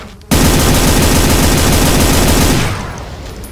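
Rapid loud gunfire in the video game Brutal SIGIL, a Doom mod, pounds out as a dense machine-gun stream for over two seconds before cutting off into a brief fading tail.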